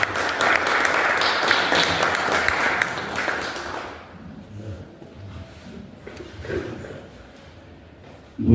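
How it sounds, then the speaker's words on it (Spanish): An audience at a book presentation claps in a dense burst of applause that fades after a few seconds, leaving scattered claps and quieter room sounds. "Un aplauso a ustedes."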